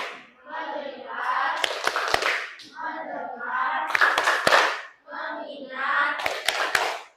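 Elementary school children in a classroom chant and clap the 'tepuk fokus' routine in three spoken phrases, each punctuated by crisp, sharp hand claps, close and clear.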